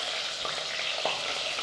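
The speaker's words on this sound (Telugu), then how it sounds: "ఇలా తిరగా మరగా వేపుకోవాలన్నమాట ఈ ఎండు చేపలను" Dried fish fries in smoking hot oil, giving a loud, continuous sizzle and crackle with a few sharper pops as the pieces are stirred, close by and steady throughout.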